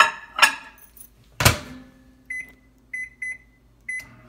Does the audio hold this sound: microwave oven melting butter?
yes